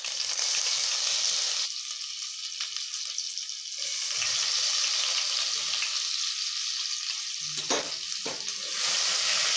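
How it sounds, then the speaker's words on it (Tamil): Crushed garlic frying in oil with mustard seeds, an unbroken close sizzle and crackle throughout, with a few brief scrapes of stirring near the end, no voices. "நல்லா வந்து கோல்டன் ஃப்ரையாக வறுத்துடுங்க பூண்டை."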